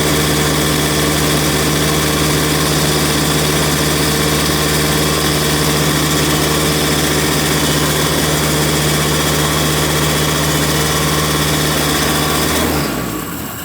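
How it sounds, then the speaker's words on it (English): A 125cc Parilla engine on a Margay go-kart runs steadily and loudly after a cold start, held at constant revs with a buzzing drone, then cuts off abruptly at the end. "I had to keep my hand on the foot pedal to keep it revving."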